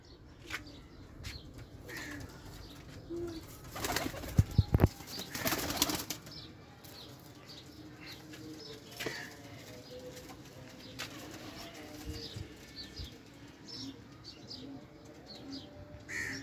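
China and Teddy pigeon pairs cooing and wings flapping in a loft, with a burst of louder fluttering midway and occasional chirps over a steady background.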